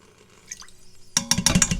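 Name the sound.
pouring Worcestershire sauce into Instant Pot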